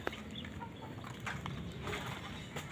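Chickens cluck softly nearby, with a few short clucks over a quiet background.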